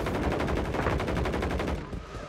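Rapid gunfire in a multiplayer shooter game, a quick rattling burst of repeated shots at an even rhythm that stops abruptly near the end.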